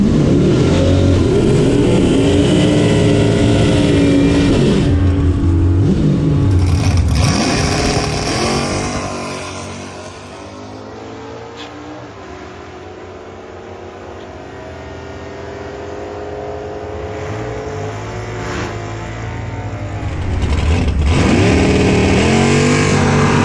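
Stock-appearing L88 Corvette race car in open comp making a drag strip pass, loud engine roaring with rising revs and gear changes, fading as it pulls away, then swelling loud again near the end.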